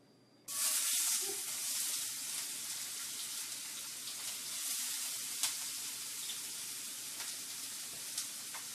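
Onions frying in a pan of melted fat over medium heat for a paleo chicken curry, giving a loud, steady broadband sizzle that starts abruptly and holds throughout with faint crackles and a few stirring clicks, no voices.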